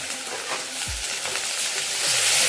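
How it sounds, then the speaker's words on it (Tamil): Spices and chopped small onions fry in hot oil in a pan, a steady close sizzle with occasional stirring scrapes, no one speaking. "இப்போ இதெல்லாம் பொரிய ஆரம்பிச்சு ஒரு 100 கிராம் நறுக்கின சின்ன வெங்காயம் சேர்த்து வச்சுங்க"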